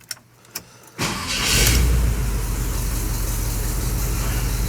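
A 1986 Chevrolet C10 with a freshly installed engine cranks briefly after a couple of clicks, fires up and settles into a loud, steady idle close by.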